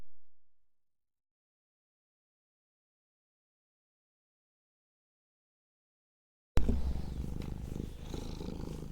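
After a long stretch of silence, close, steady cat purring starts abruptly and continues to the end.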